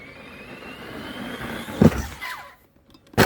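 An Arrma Outcast RC car being bashed outdoors, its electric motor whining and rising under throttle for a couple of seconds, then sharp knocks of the truck landing or tumbling, a brief pause and another loud burst near the end.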